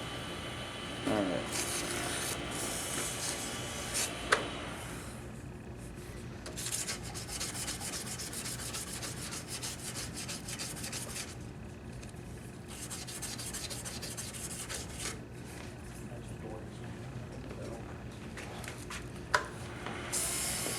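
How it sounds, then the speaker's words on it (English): Light, continuous sanding of a turned wooden pen on a lathe makes a steady, soft rubbing hiss. Faint machine hum sits underneath, with a couple of small knocks. "I'm just sanding it lightly on each one just to get the grits off from the one to the other"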